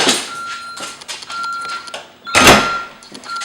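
A house alarm system chirping as a door is opened: a steady high electronic tone sounds in repeated bursts, with a louder burst of rustling noise midway, close and fairly loud.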